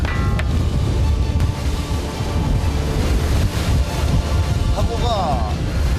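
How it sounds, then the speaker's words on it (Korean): Rough sea waves and wind batter a skate-fishing boat off Heuksando in a steady roar of surf, wind buffeting and hull noise, with brief higher creaks and clatter. "이번엔 파도가 심상치 않다."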